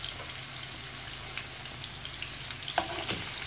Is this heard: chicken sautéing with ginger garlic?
yes